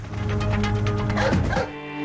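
A dog barks and yips a few times in a dog food commercial, close and fairly loud, with the barks fading out near the end.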